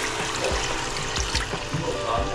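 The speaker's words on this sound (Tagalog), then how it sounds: "Lagay na natin yung tubig." Water pours into a cooking pot holding chicken, fried garlic and fish sauce, a steady close splashing trickle with a few low thuds, over a faint background murmur.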